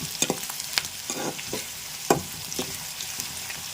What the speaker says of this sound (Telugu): ఉల్లిపాయ ముక్కలు ఏగుతున్నాయి చక్కగా